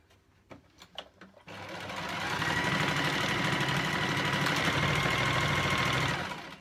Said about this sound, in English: when you're sewing hems or sleeves or cuffs